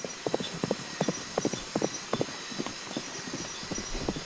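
Hooves clip-clop in a steady, even rhythm at a walking pace, fairly close, with faint background noise.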